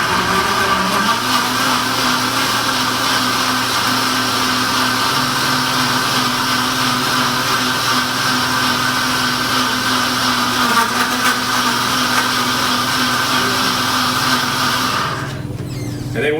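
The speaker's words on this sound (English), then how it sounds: "And now we're going to blend this up the same amount of time." A vacuum blender whirs steadily as it blends tomatoes, a loud continuous motor drone with a high whine that runs for about fifteen seconds before cutting off abruptly near the end.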